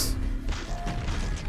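Enemy bursting into gibs under nail gun fire in Quake, a short, heavy thudding crash with a splattery burst, loud and close, with no talking.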